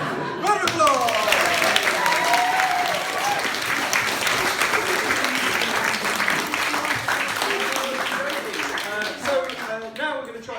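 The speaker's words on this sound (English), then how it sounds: "Round of applause!" An audience claps in sustained applause at a live improv comedy show, with a loud, dense patter of many hands lasting the whole stretch and voices cheering over it.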